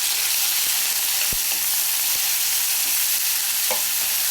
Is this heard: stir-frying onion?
yes